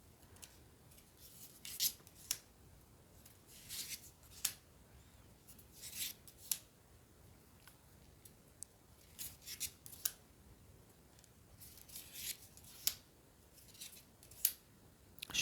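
Tarot cards being shuffled, close and quiet: repeated crisp bursts of riffling and sliding card stock in uneven rhythm, separated by short pauses, with no talking.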